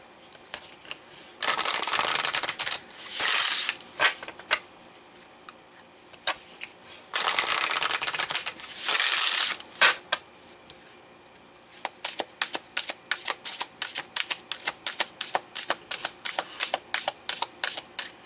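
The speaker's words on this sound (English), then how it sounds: "You guys saw me shuffling, right?" Playing cards are shuffled in several bursts, loud riffle shuffles with pauses between them, then a long run of quick, crisp rhythmic card taps and flicks near the microphone.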